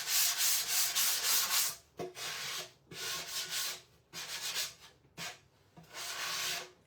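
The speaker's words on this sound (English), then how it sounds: "This is a little, the grain is just raised a little bit, so I'm just going to sand over it real quick." Wood with slightly raised grain being sanded by hand in long rhythmic strokes, with six or so rasping passes separated by short pauses, close and clear.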